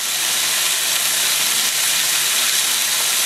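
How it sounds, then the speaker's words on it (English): Burger patties fry on a hot surface with a loud, steady, broadband sizzle that holds evenly throughout and has no voices over it. "Listen, that's that sizzling."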